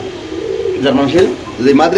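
A close pigeon gives low, rolling coos in a few bursts, with people talking nearby.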